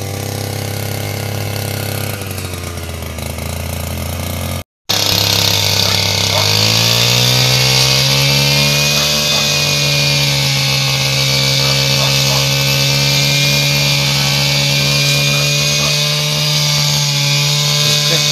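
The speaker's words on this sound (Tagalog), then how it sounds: "Mausok sir tong ano, tong grass cutter." A smoky grass cutter engine runs loud and steady close by, with a brief dropout before it revs up to a higher, sustained whine that lasts throughout.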